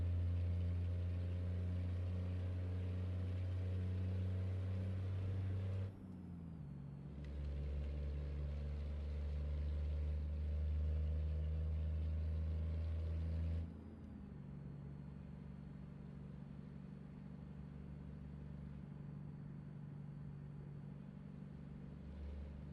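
Low, steady diesel rumble of a truck engine cruising in a trucking simulation game, with gear-change dips around six and fourteen seconds before the drone settles into a slightly quieter hum.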